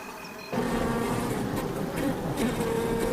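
Dense buzzing swarm of bees inside a hive under attack by a honey badger in Kenya, a constant close drone that starts abruptly and holds steady with slight swells.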